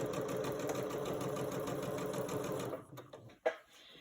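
A sewing machine stitches a scrap fabric ender while quilting, running as a steady, fast mechanical whir and rattle for under three seconds before stopping, followed by a sharp click and a faint rustle, close and fairly quiet.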